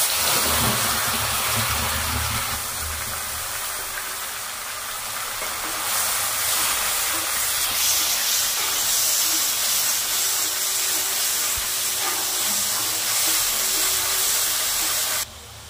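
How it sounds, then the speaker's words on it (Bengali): Onion, ginger, garlic and green chilli paste hits hot oil for a prawn malai curry, giving a loud, dense, continuous sizzling hiss that holds steadily before cutting off sharply at the end. "এবার এতে আমি অ্যাড করব পেঁয়াজ, আদা রসুন আর কাঁচা লঙ্কা বাটাটা।"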